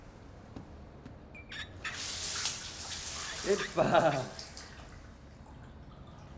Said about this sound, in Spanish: Es como una ducha que sale por los costados